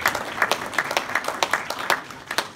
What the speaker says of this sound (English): Can we have a round of applause for them?